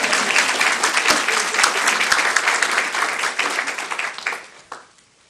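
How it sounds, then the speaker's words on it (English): Audience applause at a school board meeting, a dense, lively round of clapping from many hands in a room that holds strong, then tapers off and stops near the end. "It's okay to clap."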